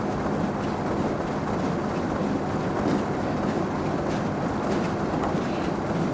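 A train rolls along in the Train Sim World game, a loud continuous rumble and rattle of wagons with faint rhythmic clacking throughout and no voices.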